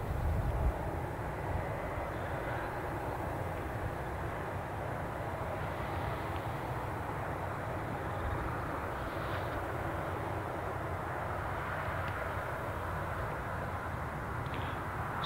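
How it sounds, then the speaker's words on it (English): A Jet2 Boeing 737 jet departs Newcastle airport, giving a steady, fairly distant engine roar that holds evenly throughout with no voices. "So we track the Jet 2 outgoing flight to Salzburg."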